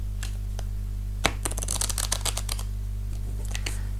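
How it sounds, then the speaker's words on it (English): Oracle cards being shuffled by hand: a sharp tap followed by a rapid run of crisp, fluttering riffle clicks, then a few scattered snaps, close-miked over a steady low electrical hum. "I am not an expert shuffler, but hey, that wasn't too bad."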